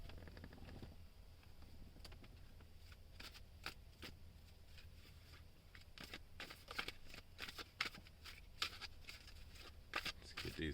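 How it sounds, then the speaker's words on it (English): Tarot cards are shuffled close by, making quiet, rapid riffling clicks and soft patters in irregular bursts that grow busier toward the end. "Let's get these cards shuffled."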